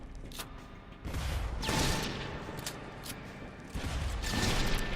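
A heavy gun firing in the shooter Loadout, a few booming blasts with noisy, rumbling tails spaced about a second apart, alone without speech.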